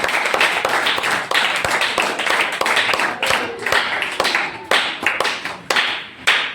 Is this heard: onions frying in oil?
no